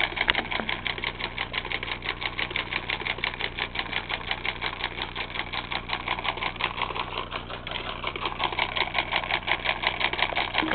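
Home-made solenoid engine running steadily, a fast, even mechanical clatter of rapid ticks repeating throughout at close range, with no voices.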